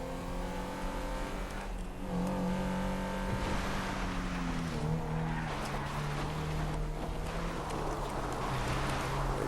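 A Mercedes-Benz 300 SL Gullwing drifting in GTA Online: a steady engine drone with shifting pitch and long squealing tires that swell and hold, loud and continuous with no talk.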